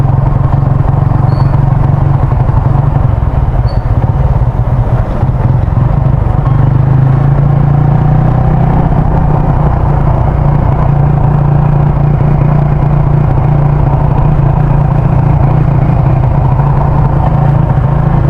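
A Yamaha Sniper 150 with a 140cc six-hole MTRT injector runs up close, a loud, continuous engine rumble whose pitch lifts slightly partway through as the throttle is given, heard alone without speech.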